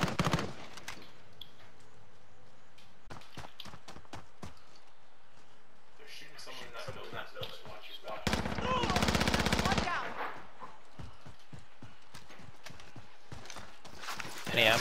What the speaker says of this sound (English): We're being shot at, just be careful.